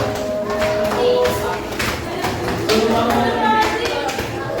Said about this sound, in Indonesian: Coba tepuk pundak samping teman kalian.